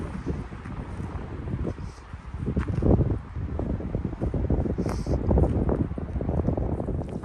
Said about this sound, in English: I think the wind is just blowing this stuff over